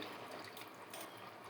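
Tamarind water is poured into a pot of cooking pumpkin kootu, a soft continuous trickling and splashing of liquid, faint and steady throughout with no voices.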